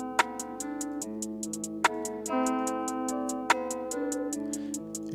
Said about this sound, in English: So for the intro, I'm just going to have the hi-hat and the rim snare sound playing.